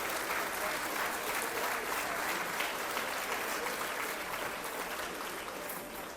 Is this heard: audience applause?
yes